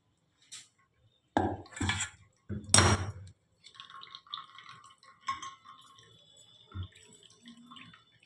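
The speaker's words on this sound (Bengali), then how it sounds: "স্যুপটা হয়ে গেছে এই যে আমি এটার মধ্যে ঢেলে দিচ্ছি" Mutton paya (goat leg) soup poured into a container, giving a few close, wet splashes and drips followed by softer liquid trickles and light clinks of the vessel.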